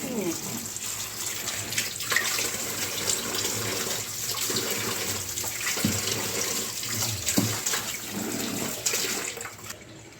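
Vegetable pieces being washed in water in a home kitchen, with steady running and splashing water that continues throughout at close range and moderate loudness.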